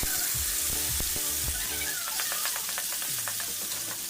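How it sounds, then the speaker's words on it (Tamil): Steady, close sizzling of mushrooms frying in hot oil with ginger-garlic paste, with a few scrapes and clinks of stirring. "நல்லா பச்சை வடை போகிற அளவுக்கு வதக்கிங்க"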